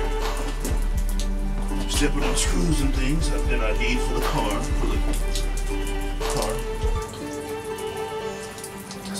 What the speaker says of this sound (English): It is raining up here in my little area